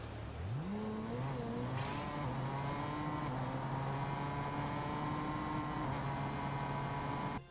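BMW car body engine in Fortnite revving up from idle into a steady sustained drone with a rising pitch at the start, loud and continuous throughout, with no talk.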